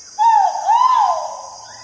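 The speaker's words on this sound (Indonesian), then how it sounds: "burung ini akan mengeluarkan suara keras dan bernada rendah untuk menarik perhatian betina" A single low, resonant whistled call of a male great argus pheasant rises and falls twice, clear and fairly close, then trails off, with no other sounds around it.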